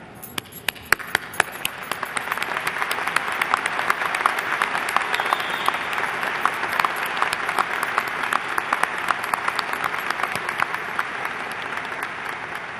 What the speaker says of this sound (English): I certainly didn't have to ask the audience to applaud these graduates